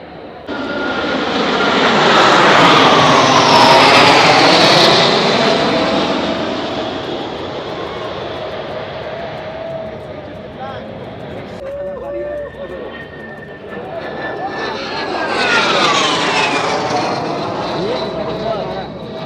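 A security helicopter passing over the pyramids throbs loudly overhead, swelling to a peak and fading before returning again, with someone speaking throughout.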